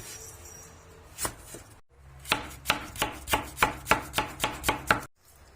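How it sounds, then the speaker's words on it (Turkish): Sharp knife strokes chop radish against a cutting board: a couple of single cuts, then a quick, steady run of about a dozen close, crisp chops. "Biz turpu rendelemekten yerine doğrayarak yemeyi seviyoruz."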